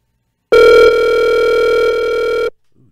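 A loud, steady telephone tone sounds while a call-in caller is being dialed back, holding for about two seconds before cutting off abruptly, with no talk over it.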